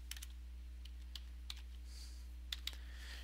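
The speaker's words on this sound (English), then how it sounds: "type in whatever you need to type in on these tabs by selecting them" Keys on a computer keyboard tapped in short, sparse bursts of crisp clicks, quiet and close, with a steady low hum underneath and no talking.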